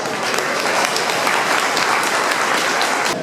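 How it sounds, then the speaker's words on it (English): Applause from an audience at a charity event for earthquake victims in Nepal, held in Fredericksburg, a thick, even round of clapping that is close and loud for its full length, with no talking. "Could we give you all a round of applause?"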